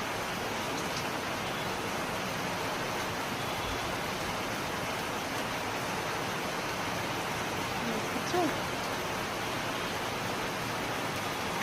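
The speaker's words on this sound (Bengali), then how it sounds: "দেখো কেমন বৃষ্টি হচ্ছে" Steady rain falls in an even, broadband hiss, continuous and moderately faint, with no distinct drops standing out.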